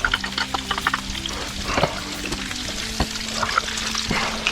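Potatoes and onions frying in a pan, a steady close sizzle with scattered sharp crackles and pops running through the whole stretch, broken by occasional clinks of stirring against the pan.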